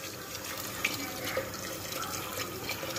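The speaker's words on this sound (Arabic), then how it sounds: "نزيدو له الماء" Water pours steadily into a cooking pot over fried squash and onions, a continuous soft splashing trickle that stays close and fairly quiet, with no talking.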